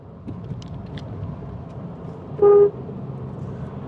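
A car horn gives one clear, loud honk of about a quarter second, standing out over steady road and engine rumble, with no talking.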